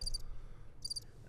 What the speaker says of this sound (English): Can you input crickets into the background?